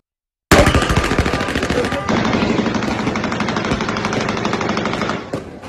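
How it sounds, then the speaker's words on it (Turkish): Sustained bursts of rapid automatic rifle fire shot into the air at a celebration, loud and close, rattling continuously for several seconds before cutting off. "tabanca ve otomatik tüfeklerle havaya ateş açıldı"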